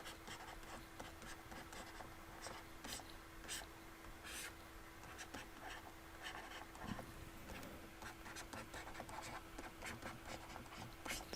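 Chalk or marker scratches in short, quiet strokes across a board during a maths lesson on triangle heights, under a steady low hum in a room, with no talk.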